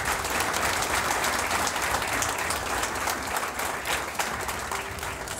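Dense, loud applause from an audience at a hotel ceremony inducting new chefs, sustained clapping that fills the whole stretch at an even level, with no voices standing out.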